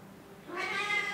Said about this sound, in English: This is a very cute cat.